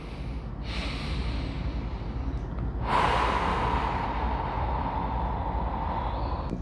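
Deep breathing during a pelvic floor and groin stretching exercise: a soft airy breath early on, then a louder, longer exhale that trails off as a steady hiss, close to the mic.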